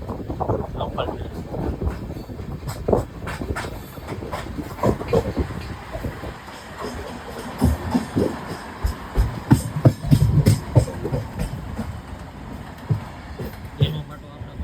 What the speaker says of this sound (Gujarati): Local train.